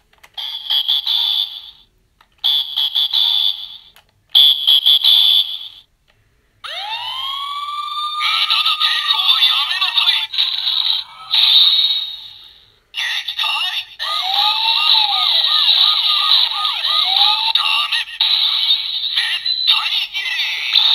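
A Lupinranger VS Patoranger toy megaphone plays loud electronic siren tones, first in short repeated bursts with gaps, then longer rising wails and warbling patterns, close and alone with no talk.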